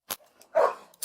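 A police dog at a bodycam-filmed confrontation in Florida gives one sharp bark, close and fairly loud, amid brief clicks and scuffing noises.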